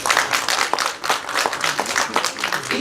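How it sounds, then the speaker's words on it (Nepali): Audience applause at a Nepali film promotion event, with dense, continuous clapping from many hands filling the clip at steady loudness, with no talk over it. "जसले मिल्छ ताली बजाउनु।"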